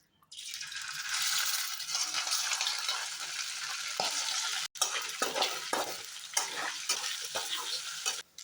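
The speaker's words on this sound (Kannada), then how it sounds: "ಎಣ್ಣೆ ಬಿಸಿಯಾಗಿದೆ. ಮ್ಯಾರಿನೇಟ್ ಮಾಡಿಟ್ಟ ಚಿಕನನ್ನು ಹಾಕುವ ಇದಕ್ಕೆ." Marinated chicken hits hot oil with a sudden loud sizzle that holds steady and dense. It then breaks into choppier crackling and spatter as the pieces are moved about, with no talking.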